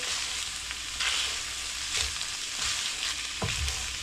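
Ground beef with salsa sizzles in a pan while a utensil stirs and scrapes through it, a steady frying hiss broken by several brief scraping strokes.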